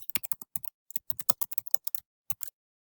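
Quick, crisp keystrokes clatter on a computer keyboard, about two dozen clicks in an uneven burst over two and a half seconds, close and distinct, then stop.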